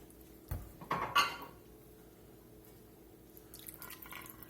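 Meat juices poured from a pan into a pot of beef stew, a short burst of clinking, dripping and liquid splashing up close, then quiet kitchen background with faint clatter.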